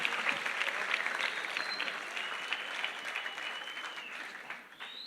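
A congress audience applauds in worship, dense sustained clapping from a large crowd that carries on steadily throughout and slowly thins toward the end.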